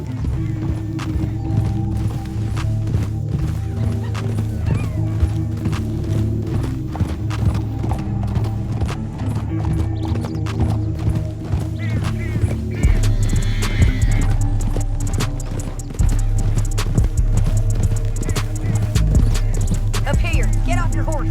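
Horses' hooves clip-clopping at a steady run in Red Dead Redemption 2, with occasional neighs over a loud bed of wind, music and game ambience, the hoofbeats pressing on throughout.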